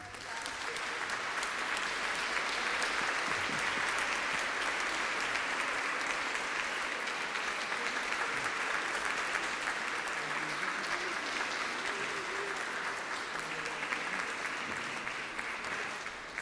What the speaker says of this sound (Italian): che noi accompagniamo con il nostro applauso